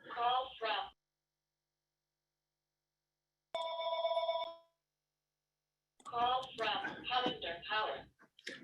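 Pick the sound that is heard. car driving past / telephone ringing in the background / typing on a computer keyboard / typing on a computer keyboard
telephone ringing in the background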